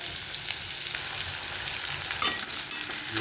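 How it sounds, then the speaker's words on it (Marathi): Onion sautéing in oil as the base for a potato bhaji fills the recording with a dense, continuous sizzle and soft stirring scrapes, close and fairly even throughout, with no voices. "आता हा छानपैकी कांदा परतून घ्यायचा आहे"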